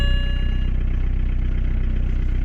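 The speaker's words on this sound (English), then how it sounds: "And the car starts." A BMW 118d diesel car engine with 360,000 kilometers runs at a steady idle, a loud, close, even low rumble with a brief chime-like tone at the start, no talking.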